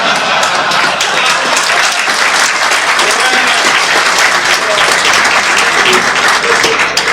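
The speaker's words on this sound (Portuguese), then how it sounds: "mas palmas merecidas" An audience claps steadily and loudly at a public event about selling seized drug-trafficking assets, the dense clapping forming a continuous close-range wash with no pause.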